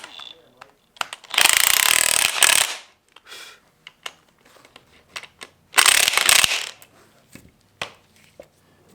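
A ratchet wrench with a 17 mm socket tightens a bolt on a K-series car suspension upgrade, giving loud close bursts of rapid clicking separated by quieter metallic taps and brief handling noises, with a person speaking nearby.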